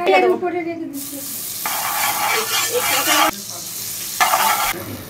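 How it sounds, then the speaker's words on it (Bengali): Butter hitting a hot wok with a sharp hiss, followed by continuous loud sizzling and frying crackle that surges and drops in waves for several seconds, with stirring scrapes, no speech. "বেশ কিছুটা বাটার নিয়ে আমি দিয়ে দেবো"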